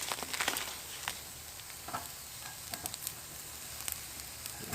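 Sausages cook over indirect heat on a Weber Jumbo Joe charcoal grill, with a faint, continuous sizzle and scattered small crackles and pops.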